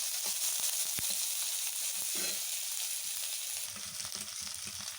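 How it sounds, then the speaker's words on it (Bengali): Sliced onions fry in a pan for chicken mete kosha, a soft continuous sizzle with faint scattered stirring clicks and scrapes, fairly quiet and close, with no voices. "দেখুন আমার পেঁয়াজটা ভাজা হয়ে গেছে।"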